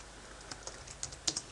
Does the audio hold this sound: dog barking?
no